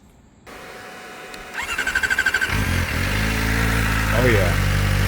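A Kawasaki Ninja ZX-4R motorcycle fitted with an Akrapovic replica exhaust starts up after a quiet moment, cranking briefly, then settling into a close, loud, steady idle with a deep throaty rumble.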